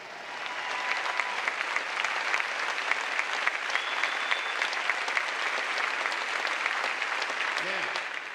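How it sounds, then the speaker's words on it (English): Sustained applause from a large audience at a 2016 afternoon college commencement ceremony, a steady dense clapping that fills the whole stretch without a break. "Let's have a round of applause for them as well."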